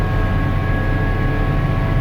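A 2008 Massey Ferguson 7490 Dyna VT tractor runs with its engine and gearbox, giving off a steady, loud, even drone with low rumble and a constant whine, heard close by without talk.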